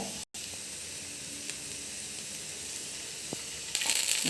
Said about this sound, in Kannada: ಹಸಿಮೆಣಸಿನ್ಕಾಯಿ ಹುರ್ಕೋಬೇಕು ಈಗ ಹುರ್ಕೊತಾ ಇದ್ದೀನಿ